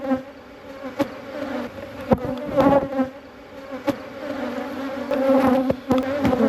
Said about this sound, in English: Not sure if you can get a sense of how many bees there are fluttering around